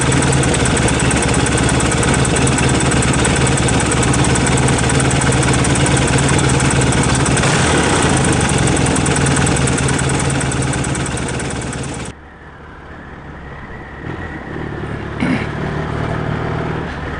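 Yamaha XS650 motorcycle engine idling steadily with a new carburetor, a loud, close, even rumble that drops suddenly in level near the end and then continues more softly.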